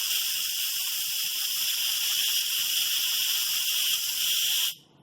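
Steam rushing from an Instant Pot pressure cooker on quick release, a loud steady close-up hiss that runs continuously for several seconds and then abruptly stops.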